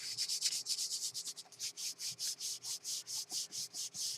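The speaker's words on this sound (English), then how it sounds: "Now I'm going to put my book page on there. Press, rub it in, rub it in." A book page being rubbed by hand onto a gel printing plate gives a quick, even series of about twenty soft, raspy strokes, close and quiet.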